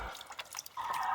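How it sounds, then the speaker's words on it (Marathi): Fresh turmeric roots being washed in water, with a short run of soft splashes and drips close by, ending in a brief steady trickle. "ही एवढी झालेली हळद ही स्वच्छ पाण्यातून 2-3 वेळा धुवून घेतली पाहिजे"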